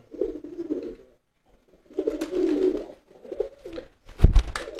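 Soft, throaty racing pigeon coos repeat in several low bubbling phrases, close by at a pigeon market, with a brief rustle or flutter near the end.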